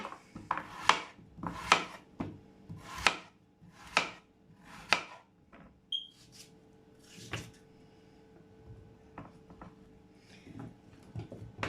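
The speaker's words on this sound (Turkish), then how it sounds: "Patateslerimi de yuvarlak yuvarlak doğruyorum." Knife slicing potatoes into rounds on a cutting board, a series of sharp, close chopping strokes in a steady rhythm, then sparser cuts and light handling sounds.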